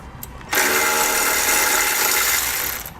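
A power tool, likely an impact or ratchet driving a 10mm socket on the horn bolt of a 2018 Ford Focus, whirs steadily and loudly for about two and a half seconds close by, then stops.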